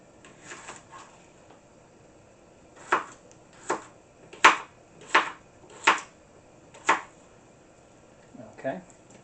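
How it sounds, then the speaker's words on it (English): Knife chopping a potato into small pieces on a board, a run of crisp close thuds in an uneven rhythm, with a few softer cuts at the start and end and no talk. "Cut it up into nice small pieces."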